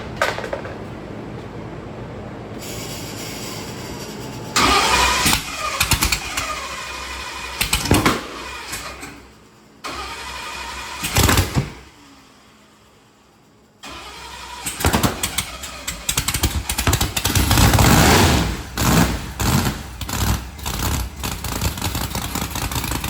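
Procharger-supercharged Ford Mustang engine cranking, catching and running rough, with loud revs that surge and drop, a brief near-stall, then more throttle blips close by.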